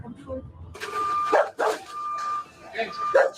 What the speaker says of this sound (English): This dog is like making weird noise.